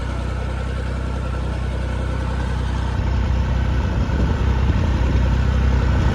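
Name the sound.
tractor engine running in field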